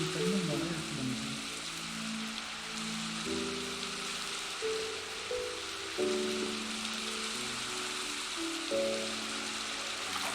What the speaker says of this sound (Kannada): ಈ ಟೈಮಲ್ಲಿ ಮಳೆ ಬಂತು